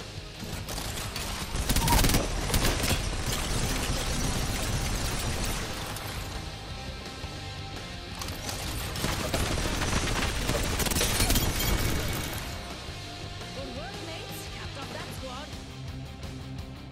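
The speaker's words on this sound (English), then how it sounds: "We got an airstrike on us." Airstrike explosions and rolling gunfire in a shooter video game, loud blasts and continuous bursts of fire layered together, swelling in intensity around the middle, with voices talking throughout.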